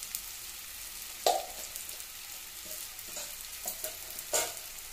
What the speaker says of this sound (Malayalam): ഇനി നമുക്ക് ഇതിനകത്ത് ചേർക്കേണ്ടത് ഒരു സ്പൂൺ പെരിഞ്ചീരകമാണെങ്കിൽ പെരിഞ്ചീരകം ചേർത്ത് കൊടുക്കാം